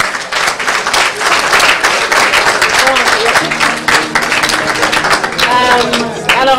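An audience at a panel discussion applauds the panelists in a loud, sustained round of clapping, with voices speaking over it toward the end.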